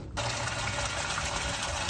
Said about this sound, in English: drain the fresh water.